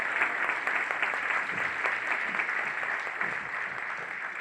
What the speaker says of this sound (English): please give another round of applause for our performers today